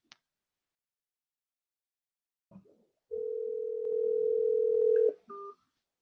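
A telephone call is placed: a brief click, then a steady electronic tone holding for about two seconds, followed by a short higher beep, all close and clean against silence.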